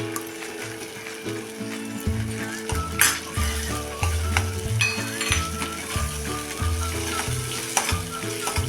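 Sambar masala with jaggery added sizzles in an oiled pan, a continuous frying hiss running over steady low background music.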